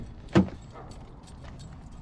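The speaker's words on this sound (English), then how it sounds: "So I'm gonna go grab my keys and then we will get started." Car keys for a Ford GT350 give one brief, bright jangle near the start, then only quiet room background follows.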